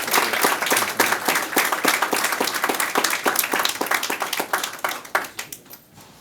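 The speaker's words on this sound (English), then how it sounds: "let's give Pastor Frank Sasueta another big round of applause" Clapping at a school district board meeting in honor of Pastor Frank Sasueta, with strong, rhythmic hand claps from a crowd that thin out and fade away near the end.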